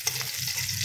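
Garlic sizzles steadily in a hot pan while cooking with onion, a continuous close, bright frying crackle with a low hum beneath and no talking.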